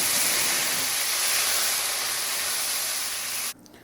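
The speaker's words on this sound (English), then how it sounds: "when it turns brown, I'm gonna add our paste of ginger, garlic and green chilies right now" Ginger, garlic and green chili paste sizzles loudly in hot oil with cumin and chilies, a dense steady hiss that cuts off abruptly near the end.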